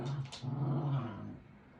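A puppy growls playfully while tugging at a ball, a rough, close growl rising and falling across the whole moment with brief yips near the start, no talking.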